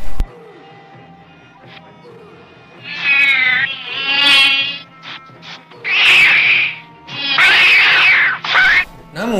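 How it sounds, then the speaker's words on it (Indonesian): An orange cat fights a cobra, with loud bursts of harsh yowling and hissing in several separate outbursts against a quieter, steady background. "kucing itu sedang berkelahi dengan seekor ular kobra"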